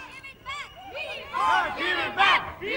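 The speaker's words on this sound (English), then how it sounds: "Boya, let's listen to these fans and see who can come up with the loudest cheer." A crowd of Australian cricket fans at an India versus Australia match in Sydney shouts and cheers loudly in rising waves of massed voices, close by and growing more intense.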